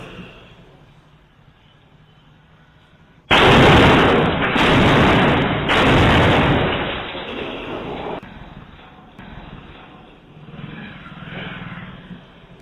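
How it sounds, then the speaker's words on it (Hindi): Three heavy bomb explosions go off in quick succession in a street attack, each loud and rumbling, then fade into a quieter background rumble. "एक के बाद एक 3 बम फेंके गए"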